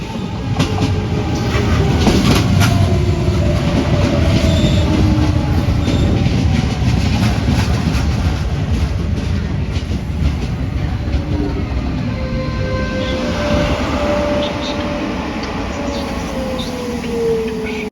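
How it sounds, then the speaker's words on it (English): A Comboios de Portugal train on the Linha do Sado rolls into a station near Barreiro with a continuous loud rumble and wheel noise, faint squeals rising and falling, with no talk over it. "and of course the train pulling in"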